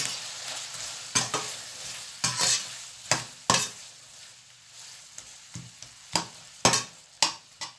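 Stir-fried instant noodles with seafood in a hot pan, drunken-style, with a soft sizzle under repeated sharp scraping and clanking of a utensil stirring, about a dozen strokes in an uneven rhythm and no voices.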